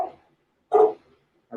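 A dog barks three times in slow succession, short loud woofs separated by near silence, with no talking.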